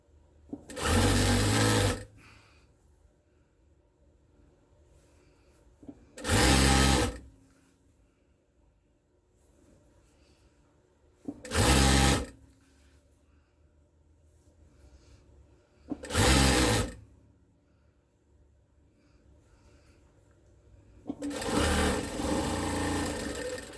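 A sewing machine stitches quilt rows in five separate bursts, each a loud, fast mechanical whirr lasting one to two seconds, with quiet pauses between them and no talking.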